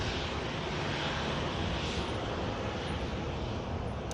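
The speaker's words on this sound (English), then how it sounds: "And the Lufthansa lines up." A Lufthansa airliner lining up on the runway at Manchester Airport, its engines giving a steady, moderately distant rumbling roar with a windy hiss, no talking.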